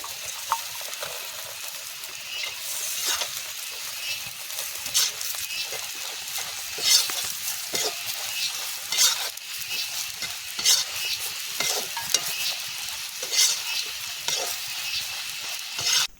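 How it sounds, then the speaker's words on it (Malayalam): Fried beef pieces stirred into thick masala in a pan for beef pickle, with a steady sizzle and repeated scraping strokes of the spoon throughout, close and clear, with no talking. "നമുക്കിതിലേക്ക് നമ്മുടെ വറുത്ത് കോരിയ ബീഫ് ഇട്ട് കൊടുക്കാം"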